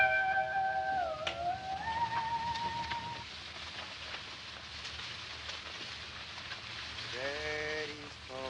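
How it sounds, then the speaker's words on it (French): Steady rain falls in the late afternoon, a soft continuous hiss close by, while drawn-out tonal whines rise and fall over it in places. "il commence à pleuvoir et cela durera toute la nuit"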